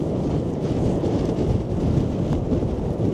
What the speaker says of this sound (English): So we're looking at 55-mile-an-hour gusts today, in the middle of high tide.